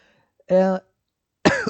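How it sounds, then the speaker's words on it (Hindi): Two short coughs separated by a brief pause, the first throaty and voiced, the second harsher, in an otherwise silent room. "सॉरी खांसी आ जाएगी"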